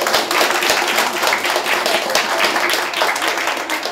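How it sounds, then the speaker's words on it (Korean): An audience at a multicultural praise-singing contest gives steady, dense applause, a continuous wash of many hands clapping at close range with no talk over it. "두 분 다시 한번 박수 주세요"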